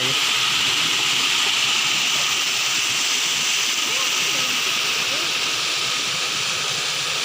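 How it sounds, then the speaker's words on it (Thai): Continuous rushing water at a sacred well in Muang Xaiphouthong, a steady broadband gush that stays even and loud for the whole stretch with no pauses. "นี่ก็เป็นน้ำไหล"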